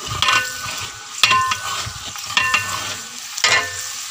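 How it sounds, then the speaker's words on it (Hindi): Onions stirred and fried in hot ghee in a large village cooking pot, a steady sizzle broken by four distinct scraping stirs, close and fairly loud with no talking. "प्याज को भूनेंगे।"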